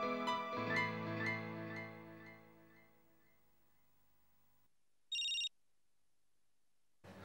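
A telephone rings briefly after a fading musical tone, a short shrill electronic ring, followed by silence and the start of another ring.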